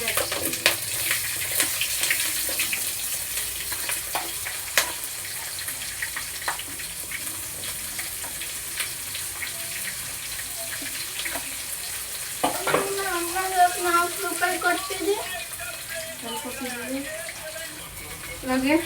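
Chopped onion and green chillies fry in a pan with a continuous close sizzle, punctuated by stirring knocks and some watery bubbling toward the end.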